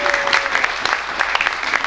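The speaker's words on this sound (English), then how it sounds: "give him a round of applause" A crowd claps for a comedian taking the stage, brisk, close and fairly loud applause with scattered sharper claps standing out.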